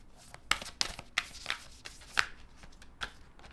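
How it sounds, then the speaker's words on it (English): A deck of cards is shuffled by hand in a series of sharp riffling snaps and flicks, irregular and close, with quiet pauses in between. "how else am I supposed to shuffle these cards?"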